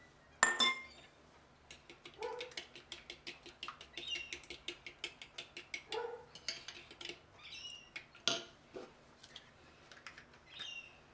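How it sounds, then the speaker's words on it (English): Sugar, oil and vanilla being whisked together in a bowl: a quick run of light metallic clinks and taps against the bowl, fairly faint and close, with no talking. "keep on whisking everything well together"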